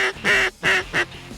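Ducks quack in three loud, close bursts in quick succession during a teal hunt in Texas, each call harsh and nasal with short gaps between, and no talk over them.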